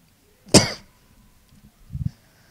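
One sharp, close cough, followed a moment later by a quieter throat-clearing rumble.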